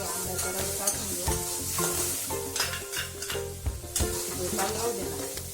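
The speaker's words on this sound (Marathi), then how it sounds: "आता त्याच्यामध्ये आपण आंब्याचा रस सगळं मिक्स करून घेऊ." Roasted semolina being stirred with mango pulp in a pan, a soft sizzle under brisk, rhythmic scraping and clanking of a spoon against the pan across the whole stretch.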